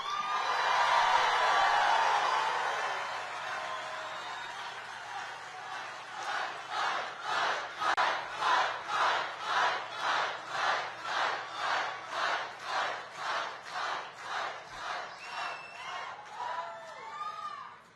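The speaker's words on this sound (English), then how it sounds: "This is a great crowd." A large political rally crowd roars loudly, then settles into a rhythmic chant of about a dozen regular beats, each swelling and fading in time, before breaking up into scattered whoops.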